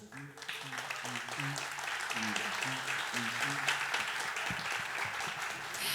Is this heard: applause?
yes